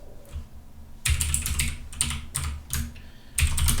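Keys clatter in quick bursts of typing as code is written on a computer keyboard, close and clear with short pauses between flurries and no talk.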